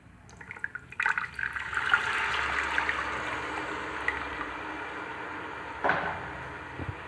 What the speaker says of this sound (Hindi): और अब हम इसमें डालेंगे गुड़ का शीरा